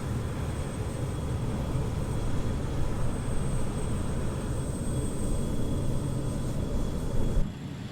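Steady, droning engine noise from a BAE 146 freight aircraft on landing approach over Brisbane. A constant broadband rumble and hum with a faint high whine holds evenly throughout, with no talking.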